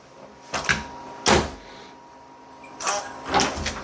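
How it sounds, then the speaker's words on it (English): A door fitted with a Knobwell smart handle is shut after being unlocked. Several close, sharp clunks and rattles from the handle and latch are separated by brief quiet gaps, with a faint electronic chirp among them. "so we can just shut the door"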